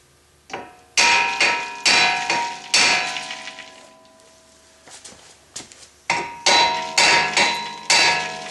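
A heavy hammer pounds a seized front brake rotor on a 2008 Dodge Avenger, ringing metallic clangs in uneven bursts of several blows, loud and close, with short pauses between groups.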